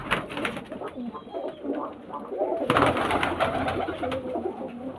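Giribaz pigeons coo softly in a close enclosure with breeding pairs, several low, repeated rounded calls overlapping, with light shuffling and faint background noise.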